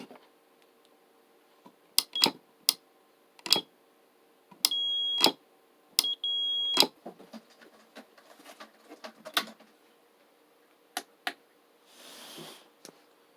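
A multimeter on continuity mode, tested beside a Sunko 737DH battery spot welder, gives two sustained beeps, each about half a second, among scattered clicks and taps of probes touching metal, with a soft rustle near the end.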